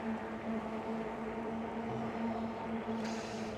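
Steady motor whine and road rumble from a Vakole Y20 Pro fat-tire e-bike while riding, a constant drone with a tonal hum running unbroken throughout, close and fairly loud, with a brighter hiss entering near the end.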